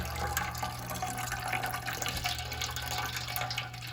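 A hot grain bag being lifted and rinsed during a home-brew Munich helles beer mash, with continuous close splashing and trickling of water draining and pouring for a few seconds.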